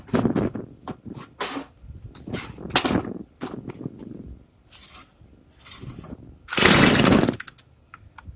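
A Craftsman string trimmer's small two-stroke engine firing up after cleaning the fuel system, with rough, uneven bursts that build into a louder, sustained buzzing revving near the end, close by and without speech.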